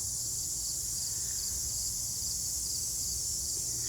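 Crickets and other insects in a garden on a hot, humid August day keep up a steady, even chorus that holds for the whole stretch, with no voices over it.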